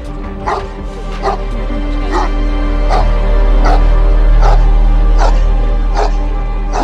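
A Bandog, a powerful mastiff-type cross bred as a catch dog, barks repeatedly in a steady rhythm of sharp woofs, loud and close over a constant low background rumble.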